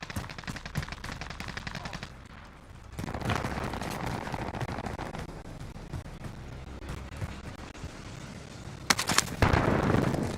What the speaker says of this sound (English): Incendiary Claymore